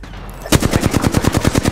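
Automatic gunfire in Apex Legends bursts in abruptly after a quiet moment and hammers on in a rapid, even stream of loud, close shots.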